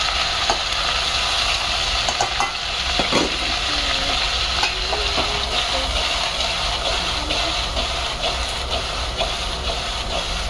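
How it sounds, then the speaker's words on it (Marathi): Chopped okra, red pumpkin and bottle gourd being stir-fried with salt in a pan, a steady loud sizzle with scraping and stirring clatter throughout, no talking. "असं छान सगळीकडनं असं परतून घ्यायचं आहे त्याला, खालीवर करून व्यवस्थित."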